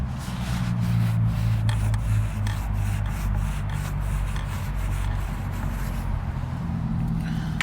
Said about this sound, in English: I'm just going to give it a nice just wipe down.